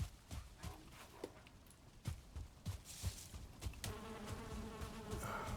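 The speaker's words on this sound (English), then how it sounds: "Why are they attacking the bees?" Buzzing bees in the Valheim video game, a faint irregular drone with scattered clicks and thuds from nearby game action, no talking.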